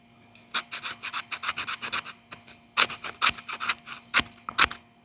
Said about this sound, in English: you can make some really good fine kind of dust, like wood dust, by doing this, scraping it back and forth